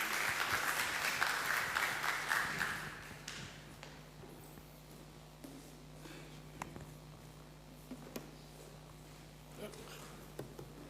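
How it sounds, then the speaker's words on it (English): Students at a university career and internship fair applaud a guest speaker, a burst of many hands clapping for about three seconds before it dies away, leaving scattered claps, faint room hum and a few thumps. "we will just ask the students just to give you a round of applause"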